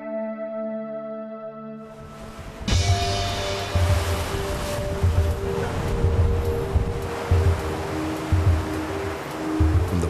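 Open ocean waves on the long crossing to remote volcanic Guadalupe Island off Mexico's Baja Peninsula, a steady broad wash of surf and water with swelling surges and some wind, heard close and fairly loud after a short musical opening.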